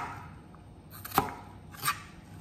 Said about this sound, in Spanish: Ahora los cortes longitudinales